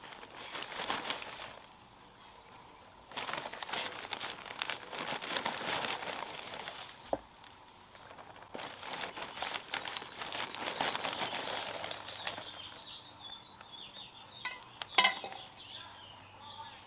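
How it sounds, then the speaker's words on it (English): Soil scooped into a summer plant container for dahlias and alliums: repeated gritty scraping and crumbly pouring in bursts, close and fairly quiet, with a sharp clack near the end. "I am going to top this off with just a little bit more soil. I'm just going to add a few more scoops."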